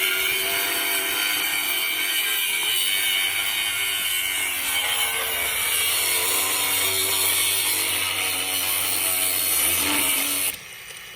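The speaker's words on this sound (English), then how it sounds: "You just used the angle grinder." An angle grinder cuts through material outdoors during a DIY custom shutter build, a loud continuous whining grind that holds steady for about ten seconds before cutting off abruptly.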